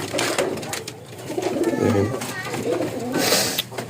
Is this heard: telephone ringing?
no